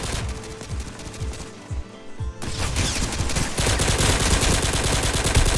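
Dense automatic gunfire in a shooter video game, near and loud, with rapid overlapping shots that briefly thin out before resuming as a continuous barrage.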